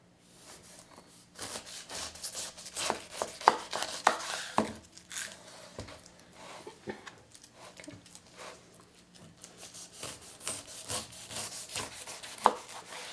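A kitchen knife slices the top and skin off a whole pineapple on a cutting board, giving repeated close, scraping and crunching cuts with short thuds of the blade meeting the board, and a few sharper knocks.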